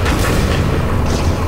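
A railgun fires in Halo: The Master Chief Collection, a loud, dense boom that fills the whole moment with a heavy, sustained blast.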